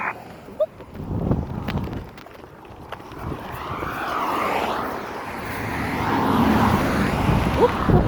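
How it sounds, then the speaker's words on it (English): An airplane passes overhead outdoors near an airport runway, a broad roar that slowly swells and builds toward the end, with scattered rustling and handling noise close by. "What's that? Airplanes."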